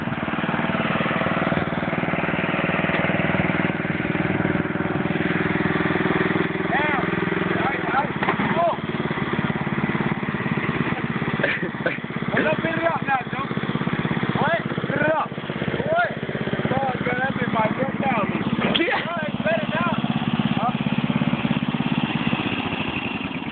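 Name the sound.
tractor engine running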